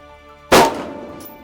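A single sharp rifle gunshot cracks during an army deer hunt. The report is loud and nearby, followed by a short decaying echo, with no voices.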